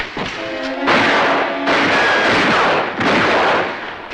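Heavy, dense bursts of gunfire from a Western film shootout, long roaring volleys that start and stop abruptly, loud and close, with a brief tonal whine at the start.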